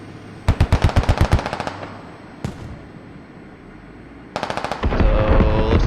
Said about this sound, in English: Clapbacker drops Proton as he's shooting at Familiar.